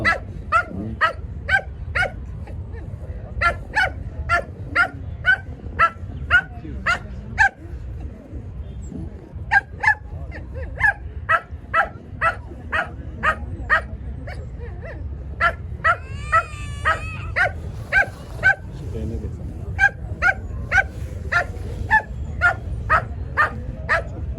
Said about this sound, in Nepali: डग केलीद्वारा प्रदर्शन हुन गइरहेको छ।